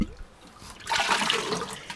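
Plain rainwater from a catchment poured out to dilute worm tea, a broadband splashing gush that starts after a near-quiet opening and continues steadily to the end.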